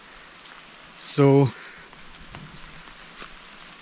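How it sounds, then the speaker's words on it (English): Heavy rain falls steadily in a soft, continuous hiss near the rocks in Mabaruma, Guyana, while someone briefly says a word over it. "because the rain come down more hard"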